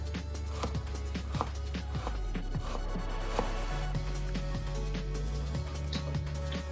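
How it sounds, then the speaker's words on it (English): A knife chopping fresh dill on a board for homemade borscht, a steady series of crisp taps, close and moderately loud, with a quiet hum in the background. "Let's chop the dill."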